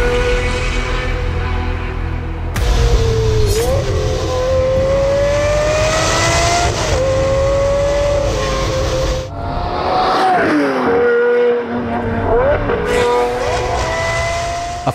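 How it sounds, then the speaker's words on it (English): Lamborghini Murcielago SV LP670-4 supercar engine revving hard and loud for the whole stretch, its raw note climbing and falling in repeated sweeps with brief dips between pulls, close by, no voices. "it's the incredible raw sounding LP670-4, or as commonly known, Murcielago SV"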